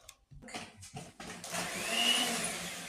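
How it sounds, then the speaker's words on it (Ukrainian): An electric mixer whirs up to speed as it beats eggs for a sponge cake, a loud steady buzzing drone after a few short clatters and bumps, close by and without speech. "Вмикаємо зараз міксер і вперед."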